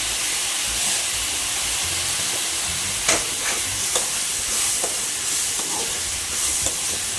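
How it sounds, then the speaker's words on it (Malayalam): Tomatoes sautéing in a hot pan in a home kitchen, a loud continuous sizzle and hiss with occasional soft scraping strokes of a spoon stirring, close up and with no talking. "തക്കാളി ഇട്ടതിന് ശേഷം നന്നായിട്ട് വഴറ്റി കൊടുക്കുക"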